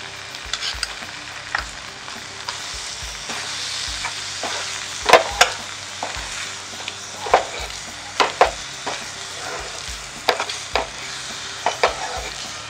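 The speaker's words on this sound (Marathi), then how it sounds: "आता त्याच्यामध्ये आपण तूप टाकणार।" Puffed rajgira halwa made with jaggery is stirred in a pan after ghee is added, with a gentle sizzle under repeated scraping and knocking strokes of a spoon against the pan at an irregular rhythm.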